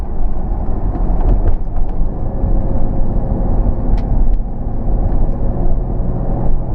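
A 2001 Pontiac Trans Am driving on a road, its engine a steady, continuous rumble with road noise heard from close inside, and no talk over it.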